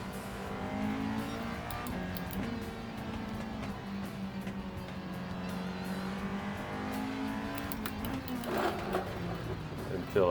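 Race car engine in Gran Turismo 7 during the first lap, a steady droning whine with shifting pitch sweeps that runs the whole time under continuous talk, swelling briefly near the end.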